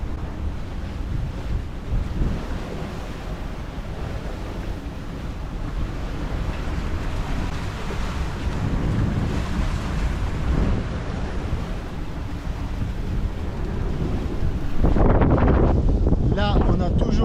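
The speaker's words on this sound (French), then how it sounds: "Le vent monte tout doucement, doucement" A sailboat at sea off the Bijagós islands of Guinea-Bissau meets rising wind and waves, heard as a continuous roar of wind and surf with wind buffeting the microphone and a louder surge near the end.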